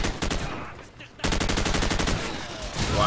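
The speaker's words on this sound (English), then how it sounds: "That'd be a grenade." Gunfire and a grenade blast ring out in Call of Duty 4 online play with the Marines, a dense run of repeated shots, a brief lull, then loud sustained firing resuming to the end.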